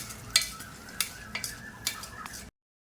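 Taro root (arbi) frying in a pan with chaat masala, stirred by a spatula that scrapes and taps the metal a few times over a soft steady sizzle, close and fairly quiet.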